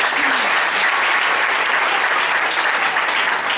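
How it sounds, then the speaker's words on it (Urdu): Loud, dense applause from a church congregation at an Easter service, steady and sustained throughout with no pauses or speech over it. "زوردار تالیاں اپنے اپنے لیے بجائیں"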